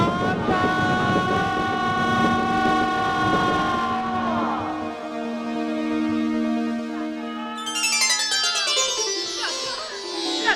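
A recorded electric train sound effect played during a village stage drama, a sustained horn-like tonal blare with rumbling running noise that shifts pitch and brightens toward the end, loud and without talk.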